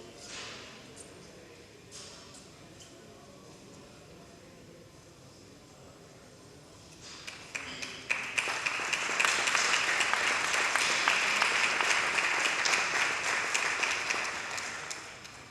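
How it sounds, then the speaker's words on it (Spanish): Applause swells from a quiet room into loud, dense clapping after about seven seconds and holds strong to the end, greeting a guest at an interview forum event. "Con este fuerte aplauso voy a invitar a Virginia a tomar asiento."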